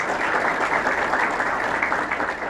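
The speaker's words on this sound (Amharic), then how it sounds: "እንደዚህ ጉባኤ ተጨብጭቡ፣ አጨብጭቡ በለ።" A church congregation claps steadily together in a dense, continuous burst, close and fairly loud with no talking over it.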